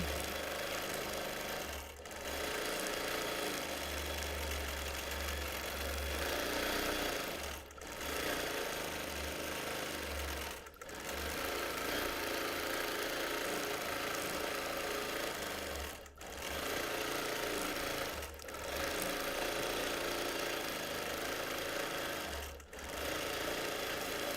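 A sewing machine doing slow free-motion stitching on a T-shirt quilt, running in steady humming bursts of several seconds separated by brief pauses, close and continuous without talk.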